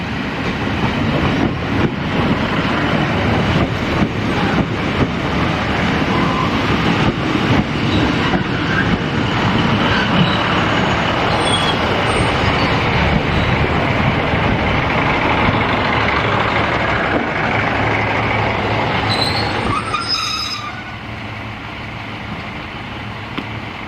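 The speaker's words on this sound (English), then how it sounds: "here we see a Class 150 Sprinter arriving at Buxton in April" A Class 150 Sprinter diesel train pulls into Buxton station, its engine rumble and wheel noise steady and loud for most of the time, with a brief squeal of brakes near the end before the sound eases off.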